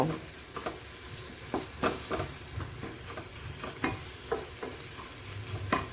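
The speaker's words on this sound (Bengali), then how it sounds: "এখন আলুটাকে মশলার সঙ্গে ভালো করে মিশিয়ে নেব" Potato filling stirred with spices in a frying pan for a crispy potato sandwich, with steady sizzling under repeated scraping strokes of the spoon, close and fairly loud, no talking.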